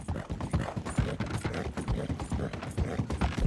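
Horse walking in Red Dead Redemption II, a steady rhythmic clip-clop of hooves close by, heard alone with an even walking pace.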